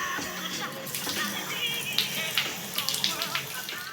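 Water running from a tap as a house's water supply is turned on, a steady splashing hiss with scattered drips and clinks, fairly close and moderately loud.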